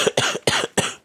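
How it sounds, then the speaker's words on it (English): A sick gamer coughs four times in a quick series. The coughs are harsh, loud and close to the microphone, then stop abruptly. "I'm probably going to be coughing a lot."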